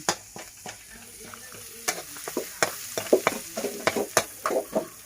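A spatula scrapes and clatters in a pan as pad krapao with basil is stir-fried, giving irregular clanks over a soft sizzle. The sound is close and steady, with no talk.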